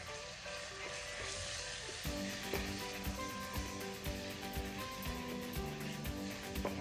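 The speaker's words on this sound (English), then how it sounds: "I'm going to let the tomato paste kind of melt down" Tomato paste for Haitian spaghetti with herring sizzles steadily in a pan as it is stirred with a spoon, a continuous close hiss with soft scraping, while music plays in the background.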